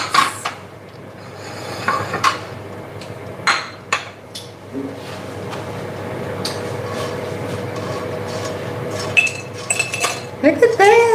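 Plates and bowls clinking together in a home kitchen while tacos are made: scattered light clinks and knocks of dishes, busier near the end, with background noise.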